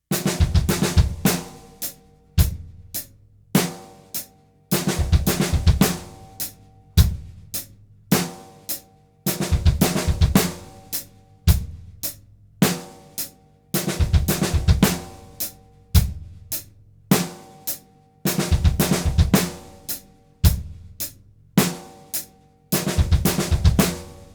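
Drum kit plays a slow nine-stroke roll led with the left hand, repeated in evenly spaced bursts of soft strokes capped by a sharp accented hit, cycling steadily and close, with no voices.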